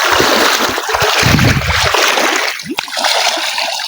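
People bathing and swimming in outdoor water make loud, close splashes and sloshing, with a burst of heavy splashing midway and a voice now and then.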